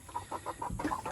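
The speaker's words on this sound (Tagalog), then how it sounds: "Ang daming manok" Chickens on a farm give a quick run of soft, repeated clucks, about eight short calls in just over a second, heard fairly close but quiet, with no talk.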